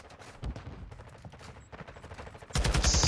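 Gunfire in the video game Call of Duty during a collegiate esports match, quick pistol and rifle shots popping over game ambience before a louder burst of fire near the end.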